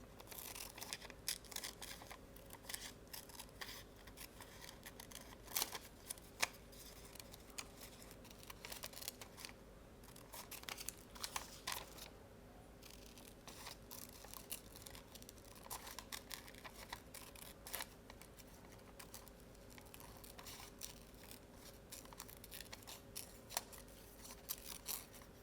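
Scissors cutting a paper turtle shape for a collage notebook, giving a quiet run of close, crisp snipping and paper rustling that goes on steadily with short pauses.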